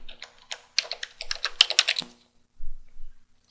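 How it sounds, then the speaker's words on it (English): Quick bursts of keystrokes clatter on a computer keyboard, uneven and close, with a brief pause near the end. "you do that by typing SU for superuser and then entering your password"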